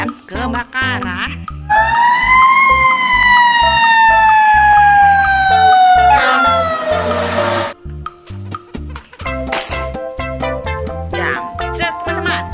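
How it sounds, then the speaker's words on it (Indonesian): A toy fire truck blares a loud electronic siren with a steady rising and falling wail, held for several seconds and then stopping abruptly, with background music running throughout. "Mobil pemadam kebakaran."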